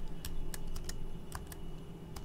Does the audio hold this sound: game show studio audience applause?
no